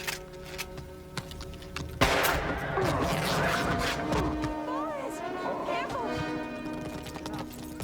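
Rifle gunfire in a 1999 western film: a sudden loud shot cuts through a tense scene, followed by a dense, noisy stretch of scuffling, hoofbeats and clattering action.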